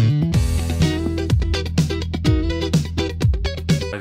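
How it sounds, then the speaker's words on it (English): A bass guitar played through an envelope filter effect gives funky, wah-like plucked notes that sweep quickly after each attack, in a steady rhythmic groove of repeated low notes. The playing is loud, close and alone, with no talk. "envelope filter. It's usually used on funk guitars"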